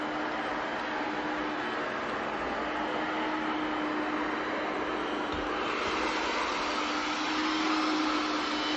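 A 360 C50 robot vacuum mop runs across carpet, producing a steady, even whir and broadband hum that holds at a constant moderate level throughout, with no talking.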